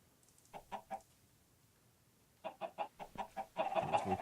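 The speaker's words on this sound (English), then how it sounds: "There's my chicken. That one's got a chicken." A chicken in the Sky Factory 3 Minecraft video game clucks in two short bursts of three and then several quick clucks, fairly close and clear with nothing else around.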